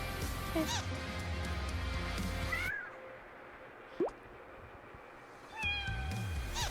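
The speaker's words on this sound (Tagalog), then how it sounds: "Pusa eh." A cat meows several times, with drawn-out, rising and falling cries at the start and near the end and a single short call in between, loud against background music.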